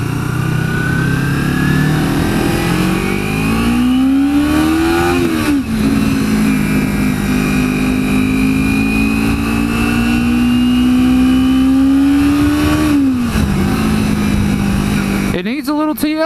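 A 2011 Kawasaki Ninja 250R motorcycle engine revs loud and close, its pitch climbing, dipping briefly, then rising steadily again before dropping off near the end.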